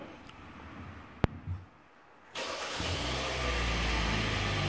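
A Hyundai Grandeur IG engine starts up close by: a short click, then a brief crank catches into a steady idling hum that continues to the end.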